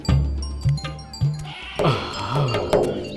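A fat goat bleats several times in quick succession, loud and close, each call wavering and nasal, in an animated children's story set in a village.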